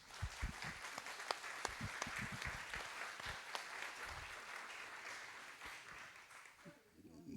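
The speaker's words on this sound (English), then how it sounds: "And again, for them, a round of applause." Applause rolls through a meeting room for several seconds, with sharp individual claps standing out against a steady patter that fades toward the end.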